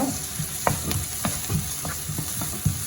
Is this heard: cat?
no